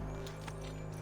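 A horse in Assassin's Creed III, its hooves clopping steadily with a soft snort, heard up close over a constant low game ambience for about a second.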